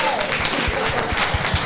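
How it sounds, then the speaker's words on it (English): Steady applause from a crowd, a dense wash of many hands clapping at once, fairly loud and continuous throughout. "Please clap for him."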